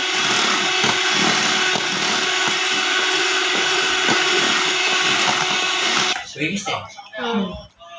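A hand beater whirs steadily through a vanilla ice cream mixture, a loud continuous motor drone that cuts off near the end, leaving brief clatter and faint sounds.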